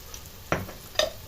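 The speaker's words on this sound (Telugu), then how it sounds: "ఉల్లిగడ్డ అయితే ఫ్రై అయింది ఆనియన్స్ అయితే కలర్ వచ్చింది" Onions frying in a pan with ginger paste added, giving two short stirring scrapes over a faint steady sizzle, close by and fairly quiet.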